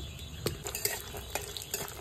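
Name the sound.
peanuts frying in oil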